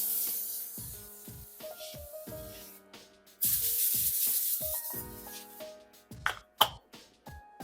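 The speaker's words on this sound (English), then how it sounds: "We're going to use some non-stick spray." Two bursts of hissing non-stick cooking spray onto a pan, each lasting about a second or more, with quiet background music and a few soft clicks around them.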